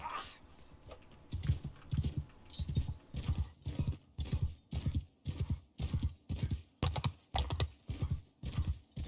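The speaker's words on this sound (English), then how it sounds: "I like how the horse sound changes depending on what you're running across." Hooves of a horse in the video game Mount and Blade Bannerlord clip-clop in a steady galloping rhythm, close and moderately loud, with no talking over them.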